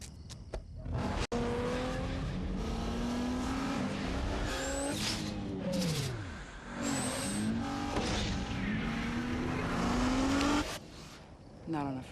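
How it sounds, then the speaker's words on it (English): A 265-horsepower Nissan Maxima in a TV commercial revs and accelerates with tire squeals and sweeping engine pitch changes, loud and close, with voices heard speaking over parts of it. "The 265 horsepower Nissan Maxima."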